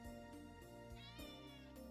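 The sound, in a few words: cat meowing in a video game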